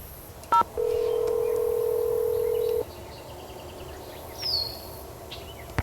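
Telephone dialing in a Nancy Drew video game: a quick burst of keypad tones, then a long steady tone lasting about two seconds, followed by faint bird chirps over quiet ambience.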